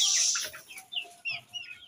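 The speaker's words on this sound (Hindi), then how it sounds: "देखें हमारे चिक्स हैं ना ये बाहर आते हैं" Young chicks being fed make several short clucking and peeping calls, loud and close, with a burst of high calls at the start, then spaced chirps.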